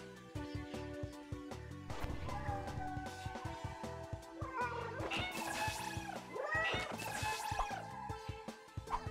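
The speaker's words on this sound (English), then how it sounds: "Come on, somebody feed those cats." Cats in the video game Slinki meow and caterwaul repeatedly in drawn-out calls over layered game music and effects, growing busier and louder in the middle.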